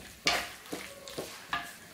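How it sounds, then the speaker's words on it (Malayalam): A spoon stirring mushrooms and vegetables in a pan, four distinct scraping strokes at an unhurried pace over a faint sizzle, close and moderately quiet. "ഇതെല്ലാം കൂടി നമുക്ക് നല്ലപോലെ ഒന്ന് മിക്സ് ചെയ്ത് കൊടുക്കാം"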